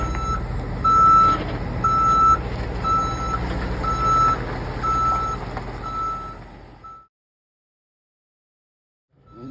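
A truck's reversing alarm beeps steadily and repeatedly over a low idling semi tractor engine rumble, then everything cuts to silence.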